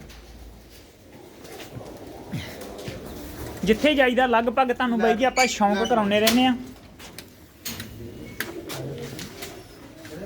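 Racing pigeons coo from a row of about ten coops, a rolling, throaty cooing in the middle stretch, with someone speaking before and after it.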